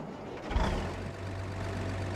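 Tractor engine and cooling fan in the video game Farming Simulator 25, a steady low rumbling drone with a brief louder swell near the start, heard alone at moderate level.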